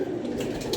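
Pigeons coo softly nearby, a brief low murmuring call over faint background noise.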